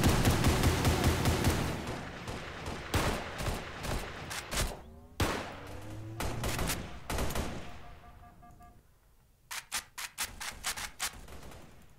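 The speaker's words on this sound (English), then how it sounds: "I just shot my guy point blank." Gunfire from the game Space Station 13 crackles in loud, sharp bursts of rapid shots, interrupted by pauses and a few tonal effects, then resuming as a final cluster of separate shots near the end.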